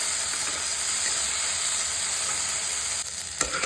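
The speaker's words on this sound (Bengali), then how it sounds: "মোটামুটি হয়ে গেছে আমার ভাজা একটু কালারটা চেঞ্জ হয়ে গেছে দেখো পেঁয়াজের" Onions frying in a pan for a chickpea and peanut chaat, a steady close sizzle and hiss throughout with a few brief stirring scrapes near the end.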